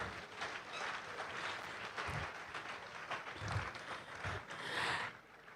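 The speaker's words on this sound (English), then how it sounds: "A round of applause for Dr." Crowd applause for a speaker at a youth debate grand finale, a steady wash of many hands clapping throughout, moderately distant and fairly faint, with a few low thumps and no clear talk.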